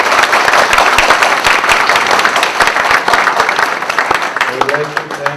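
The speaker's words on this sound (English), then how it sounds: "a big round of applause." A big round of applause from students welcoming a guest speaker at an event on Indian animation, with loud, dense, sustained clapping from a close crowd.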